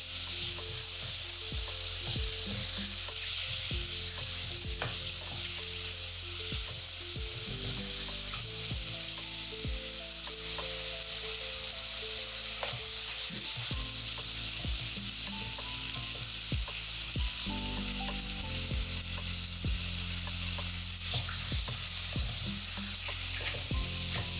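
Mushrooms and garlic sautéing in a pan, a steady close-up sizzle with repeated rhythmic scraping and clicking from stirring that runs throughout.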